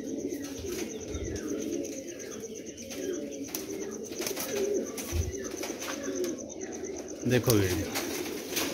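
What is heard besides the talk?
pigeons cooing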